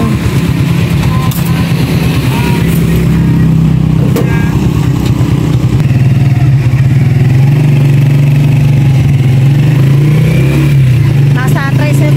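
A tricycle motorcycle engine drones steadily while riding to town on a sunny day, loud and constant with a low hum throughout, as a person talks over it.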